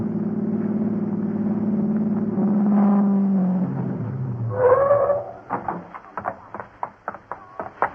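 A radio-drama car engine effect: a steady low engine drone that swells into a rising whine, followed by a run of sharp knocks and clicks, close and fairly loud with no speech.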